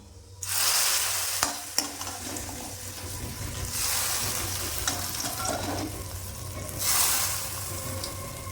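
Neem shukto vegetables frying in a pan with tempering, stirred around; a steady close sizzle with scraping stir strokes swelling in two louder bursts, no talk.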